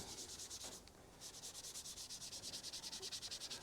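A steel motorcycle toolbox for a Triumph Rocket 3 is sanded by hand to rough up its surface, producing quiet rhythmic back-and-forth scratchy strokes, a brief pause, then a steady even run of rubbing passes close up.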